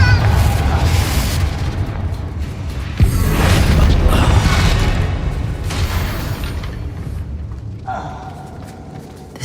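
A Confringo fire spell bursts in Hogwarts Legacy, a loud booming explosion followed by a long rumbling, crackling roar that slowly fades, with a voice speaking over it.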